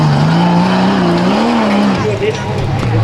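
An off-road race vehicle runs down the Chocolate Thunder section of the King of the Hammers course, its loud, close engine note rising and falling under a commentator talking throughout.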